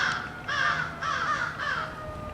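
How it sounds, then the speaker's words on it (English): Crows caw back and forth outdoors, three loud, evenly spaced calls ringing out about half a second apart. "Damn crows are calling back and forth to each other."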